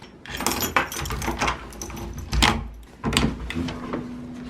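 A locked door being tried at a hostel in South Africa: several clattering rattles and thumps of the handle and door with a metallic jangle, close and fairly loud, with no speech.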